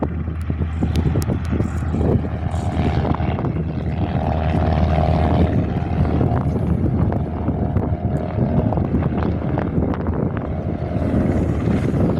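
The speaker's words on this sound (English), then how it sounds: "Qantas A319 going to Perth" A Qantas A319 airliner heard outdoors on a windy day as a loud, steady roar of jet engines, with gusts buffeting the microphone the whole time.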